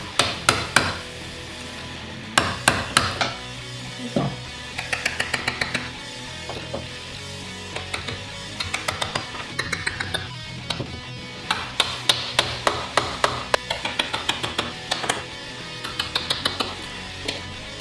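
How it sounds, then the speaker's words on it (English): A flat-blade screwdriver taps a sawtooth hanger into a mirror frame in quick bursts of sharp metallic knocks, close and fairly loud, repeated in clusters with short pauses and no talk. "Get a flat blade screwdriver. Just tap it in."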